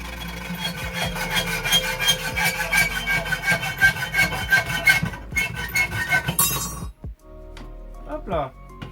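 Old-style hacksaw cutting metal for a homemade brake-changing hook, rapid rhythmic rasping strokes close up for several seconds, then a metallic clink and scrape as the piece comes free.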